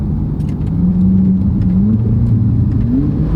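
Ferrari 458 Italia naturally aspirated V8 driving slowly, a steady close engine hum with pitch gently rising, dipping during a sluggish delayed gearshift, then climbing again.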